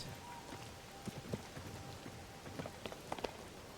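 Rain patters softly in The Legend of Zelda: Tears of the Kingdom, a faint steady hiss broken by scattered light drops and soft footstep-like taps.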